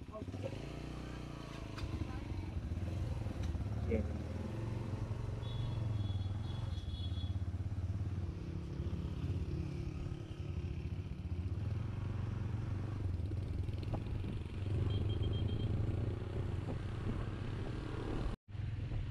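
A motorcycle engine drones steadily while riding through the upper Neelum valley toward Kel, Azad Kashmir, with a constant close rumble and rattling, under a voice talking.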